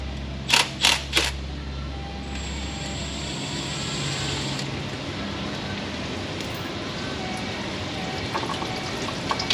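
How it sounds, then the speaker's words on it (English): Ultra-low-viscosity automatic transmission fluid drains from the pan of a 10R140 ten-speed transmission on a 2021 Ford F350, a steady hissing pour throughout, with a few sharp clicks near the start. "And we're still draining."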